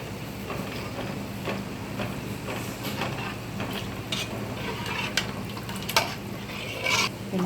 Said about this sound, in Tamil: இப்போ சிம்மில் வச்சு தேங்காய் பால் ஆட் பண்ணிக்கலாம்.